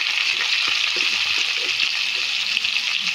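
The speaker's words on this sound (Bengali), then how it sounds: "আলুগুলোকে ভালো করে ভেজে নিচ্ছি।" Cut potatoes with turmeric and salt fry in hot oil, a steady, close, loud sizzle with faint stirring clicks running throughout, no voices.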